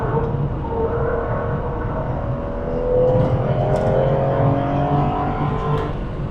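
An Aston Martin V8 Vantage running on normal road brakes slows on a racing circuit approaching a hairpin. The engine tone drops steadily and then surges as it decelerates, heard close and continuous from the car.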